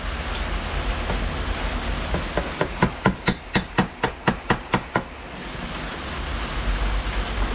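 Rapid hammer taps strike the side of a Poulan Wild Thing chainsaw flywheel to loosen it. About a dozen quick, evenly spaced metallic knocks ring out over a steady windy background hiss.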